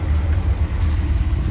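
Ferrari Dino 308 GT4 on the road, heard from inside as a steady low engine and road rumble, fairly loud and continuous with no talking.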